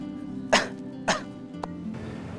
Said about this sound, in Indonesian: Juga masih agak sedikit batuk.